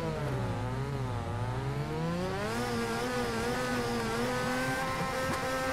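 A car engine in the drifting game Torque Drift revs and accelerates in second gear, a loud continuous whine that sags and then climbs steadily in pitch, heard close with no talking.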